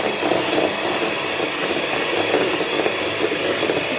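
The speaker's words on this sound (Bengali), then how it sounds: "এবার এটাকে ফুল স্পিডে বিট করে নিতে হবে।" An electric mixer whirs at full speed beating egg yolks and sugar for a mango chocolate pastry, a steady, dense, close drone with a faint rattling texture throughout and no voices.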